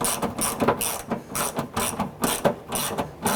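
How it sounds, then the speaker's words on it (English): Rapid ratchet wrench clicks snug down a nut on the liftgate handle bracket of a 1999-2004 Jeep Grand Cherokee, coming in regular close bursts of clicking with brief pauses between strokes. "Go ahead and snug down that nut"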